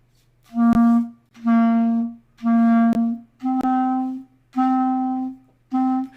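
A reed instrument plays six sustained notes, each started with a hard, thumpy tongued attack, separated by short gaps, close and clear.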